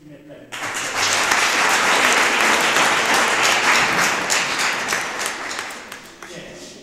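A crowd at a motivational function claps for a youth development founder. The applause swells in loud and dense after a short lull, holds steady, then tapers off near the end.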